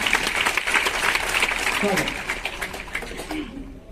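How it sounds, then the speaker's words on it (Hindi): Audience clapping at a Hindi poetry stage show, a brisk burst that fades toward the end, with a voice talking over it in the latter half. "एक बार जोरदार तालियां इनके लिए हो जाए।"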